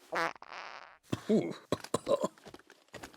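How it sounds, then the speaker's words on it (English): An old oracle lets out a rapid string of several short farts, close and fairly loud, followed by a few brief squeaky bursts with rustling and faint voice-like sounds between them. "He goes to an oracle to ask about the door, but the dude just starts farting."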